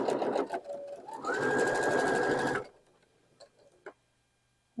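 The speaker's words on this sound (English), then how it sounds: "Lift your foot and then just keep sewing." Sewing machine stitching four-patch quilt blocks, a steady fast run of needle strokes lasting about two and a half seconds, then stopping, followed by faint clicks and handling in a quiet room.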